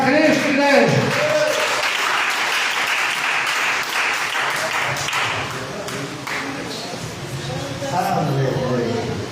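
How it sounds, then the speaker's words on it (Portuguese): A church congregation at a Pentecostal service applauds Christ, with sustained loud clapping filling the hall and voices mixed into the din throughout. "Mais palmas para Cristo, igreja."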